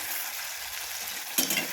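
Soft, steady sizzling of wheat-flour puri frying in hot oil, with a brief louder crackle near the end.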